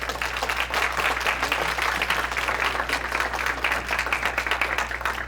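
An audience at a science talk bursts into sustained applause, dense even clapping from many hands filling the room at a steady loud level, with a low hum underneath.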